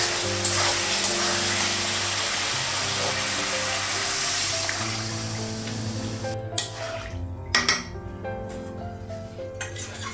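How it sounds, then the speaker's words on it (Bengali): Spice masala sizzles and fries in a pan for a Bengali home-cooked dish, a steady loud hiss that thins out halfway through, followed by a few sharp clinks of a spoon stirring against the metal. "মশলাটা একটু কষে দিই"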